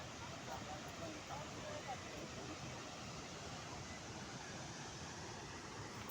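Tirathgarh waterfall in Chitrakoot, Bastar, roars as its water plunges down, a steady, unbroken rushing wash heard from some distance without pause.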